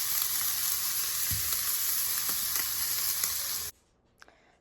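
Beef pot roast sears in a hot pan with a loud, steady sizzle and a few soft stirring knocks, before the frying cuts off abruptly near the end, leaving near silence.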